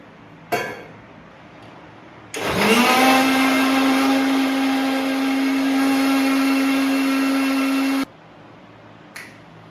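A mixer grinder blending a banana shake with milk whirs loudly for several seconds at a steady pitch, starting and stopping abruptly, with brief clicks before and after.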